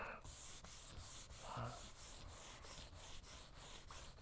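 Hand sanding with 800 grit sandpaper in a garage, a soft, rhythmic back-and-forth scratching in regular strokes, close and quiet, without speech.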